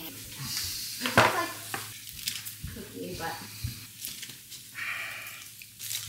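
Bacon sizzling and crackling in a frying pan, with stirring and scraping noises and a person talking intermittently over the frying.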